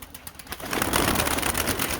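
Tumbler game pigeons are released to fly, with soft cooing and a fluttering, rustling commotion that swells from quiet to a steady, close flurry of wings.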